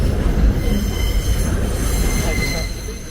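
A train rolling past close by, loud and continuous, its wheels letting out thin high-pitched squeals over a heavy low rumble of the railcars, with no voices over it.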